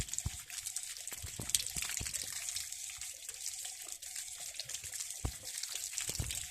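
Water runs steadily from an outdoor drinking-water tap, a continuous close splashing stream with a few sharper drips and knocks mixed in, no voices.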